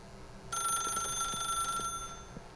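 A telephone in The Stanley Parable video game rings once, a bright electronic bell that starts sharply and rings steadily for about a second and a half before cutting off, heard alone over a quiet background.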